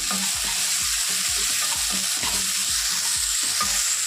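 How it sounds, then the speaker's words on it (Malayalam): Two medium tomatoes sauté in a pan for a mutton dish, a loud steady sizzle with a fast, regular rhythm of spatula strokes scraping through the pan, close up and with no talking. "ടൊമാറ്റോ രണ്ട് മീഡിയം തക്കാളിയാണ് ഞാൻ എടുത്തിട്ടുള്ളത് ഇനി അതിനെ ഇതേപോലെ നല്ലതുപോലെ ഒന്ന് വഴറ്റിയെടുക്കാം"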